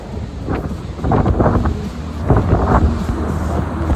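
Strong wind rips across an outdoor yard with metal sheeting and trees. Loud gusts buffet the microphone in rising and falling surges, and no one speaks.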